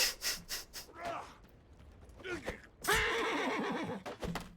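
A horse in the game Mount & Blade II: Bannerlord snorts and breathes in short bursts, then lets out a loud whinny close by, ending with a few softer huffs.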